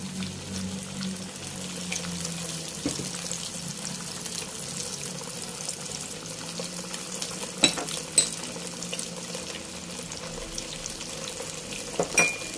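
Potatoes stir-fried in a hot skillet give a low, steady sizzle throughout, with a few sharp clinks and scrapes of stirring near the middle and end; no one speaks.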